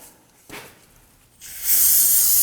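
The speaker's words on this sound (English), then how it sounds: "we want to go ahead and spray it down with some spray solvent" A short hiss, then a strong continuous spray from an aerosol can of solvent onto a car's front brake caliper that grows louder and holds steady, with no talking.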